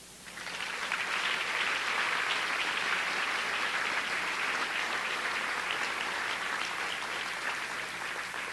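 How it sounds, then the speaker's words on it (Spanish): Sustained applause from a church congregation, loud and steady throughout with no break, the hands clapping alone without talk over it. "Dele un aplauso al Señor"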